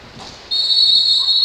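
A referee's sharp whistle at a women's roller hockey match cuts in after a brief murmur and holds as one steady, shrill, fairly loud blast.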